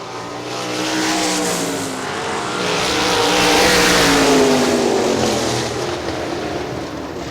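A pack of 410 sprint cars roars around the Hartford Speedway Park dirt oval in Michigan, engines droning and rising in pitch as they pass, loud and continuous with a swelling, fading sweep and no commentary audible.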